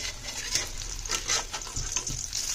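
Onion and chicken pakoras frying in hot oil, a steady close sizzle and crackle with small bursts and faint clinks of the pan throughout.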